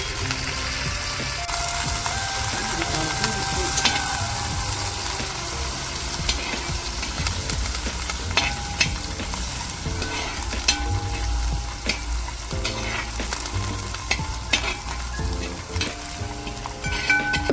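Ten slit green chillies and three sprigs of curry leaves fry in hot oil in a pan for a Kerala-style fish head curry. A loud, steady sizzle runs throughout, broken by sharp clicks and scrapes of stirring.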